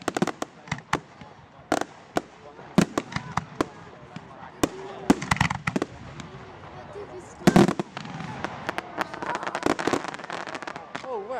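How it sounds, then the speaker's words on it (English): Rapid fireworks bangs and crackles burst in clusters, many at once, at a Bonfire Night display, with a steady crackling rumble late on and voices talking underneath. "It's like fireworks come out of like 10 fireworks at once."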